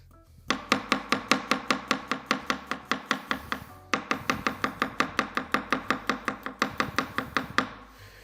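Hedley & Bennett kitchen knife chopping garlic on a board, dozens of fast, evenly spaced crisp knocks in a steady rhythm, close and clear, with a brief pause midway.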